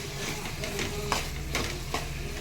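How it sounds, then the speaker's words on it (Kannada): Green peas and tomato for matar sabji frying in a pan, a steady close sizzle broken by a few quick spoon scrapes, with no one talking. "ಬಟಾಣಿ ನಾನು ಚೆನ್ನಾಗಿ ಫ್ರೈ ಮಾಡ್ಕೋಬೇಕು."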